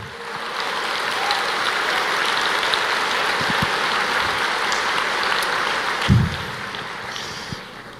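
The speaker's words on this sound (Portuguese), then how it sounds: "Você não pode aplaudir o Senhor?" A church congregation claps together, a broad, steady patter of many hands that holds for several seconds, with a brief louder thump near the end and faint room noise underneath.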